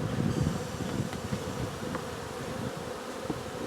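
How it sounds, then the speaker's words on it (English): Honeybees swarm around a hive during a nucleus transfer outdoors, a dense, steady buzzing drone with individual bees zipping close by the microphone, no talking. "there are so many bees"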